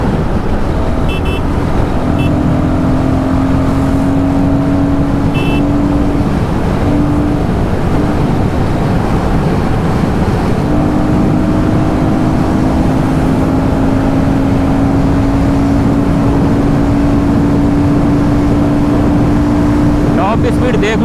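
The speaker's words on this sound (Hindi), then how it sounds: "थ्रॉटल पूरा खींच रखा है एकदम, मतलब 147-150 की स्पीड है।" Royal Enfield Guerrilla 450 motorcycle held at full throttle around 150 km/h, a steady loud engine drone mixed with heavy wind roar, constant and close throughout.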